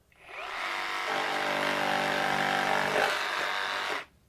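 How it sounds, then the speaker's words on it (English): A reciprocating saw fitted with a Bosch blade cuts through nail-embedded plywood in one loud, continuous buzzing pass of about three seconds, revving up at the start and stopping abruptly at the end. "Bosch has got no problem getting through that plywood"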